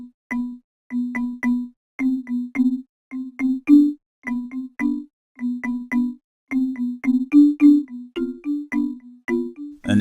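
Soft mallet bell and percussion patch in music production software playing an Afrobeat groove, a clean, close sequence of short mellow bell-like strikes in a syncopated rhythm with brief gaps, heard alone without talk.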